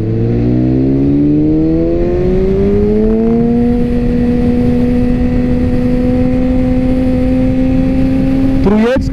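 A loud motorcycle engine revs up in third gear, pitch rising then holding at a high steady drone around 8000 rpm for several seconds before a brief clatter at the end.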